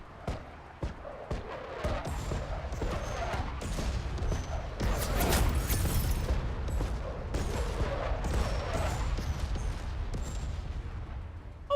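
Turret gunfire aimed at a mortar team in the video game Menace, a dense, continuous barrage of shots and blasts lasting throughout, loud and busy with overlapping impacts.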